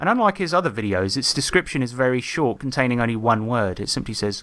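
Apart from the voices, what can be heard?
No everyday noise stands out behind the speech.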